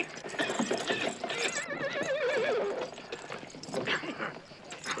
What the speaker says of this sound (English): Jack, I found a horse.